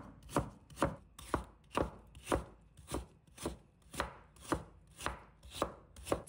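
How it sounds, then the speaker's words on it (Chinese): Radish being cut into fine strips with a knife makes about twelve evenly spaced, crisp chops on a board, a clear steady rhythm with no voices. "切好后，再改刀切成细丝，越细越好。"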